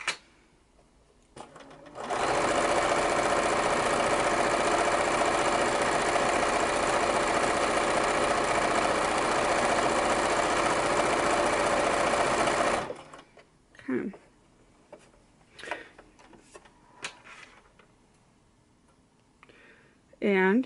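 A sewing machine free-motion stitches fabric flowers in one long, loud, steady whir of about ten seconds, then stops; someone talks before it starts and again afterward amid small clicks and handling sounds.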